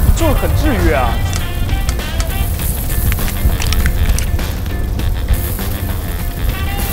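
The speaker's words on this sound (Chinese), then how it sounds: "酒，就听着那噼里啪啦的声音" Clay pot rice cooking over a fierce flame in Shunde, Guangdong, sizzles and crackles steadily after wine is splashed onto the very hot clay pot, a dense, continuous close-up hiss under a person speaking.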